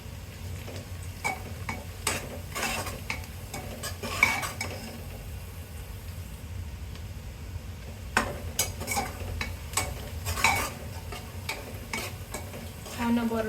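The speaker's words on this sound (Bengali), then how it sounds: "অনবরত নাড়তে থাকতে হবে যেন প্রপারলি চারিদিকে একসাথে ফ্রাই হয়।" Onions and spices for haleem fry in a pan over high heat while being stirred constantly. A low, steady sizzle runs underneath, and the spoon scrapes and clinks against the pan at irregular moments.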